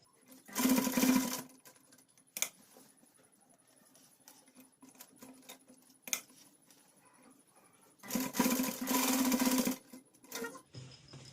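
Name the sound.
sewing machine stitching a button placket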